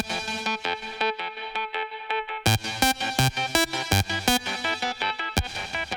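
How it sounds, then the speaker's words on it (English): An electronic melody pattern soaked in delays and reverb with ringing comb-filter tails. Rhythmic plucky notes repeat, then heavy punchy hits join in, and the echoes smear across the beat, loud and without any voice. "there's loads of delays and reverbs and that, but the tail's going across"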